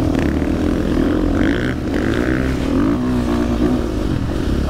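A motocross bike rides through desert sand, its engine droning and revving steadily at close range with no pauses.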